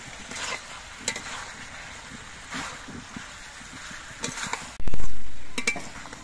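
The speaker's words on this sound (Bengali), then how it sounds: "মাছটা দিয়ে হালকাভাবে নেড়ে চেড়ে মিশিয়ে নিতে হবে।" Fried fish being gently stirred into a curry in a pan produces a low frying hiss with intermittent scraping and knocks of the spatula, followed by one sudden loud thump and rumble near the end.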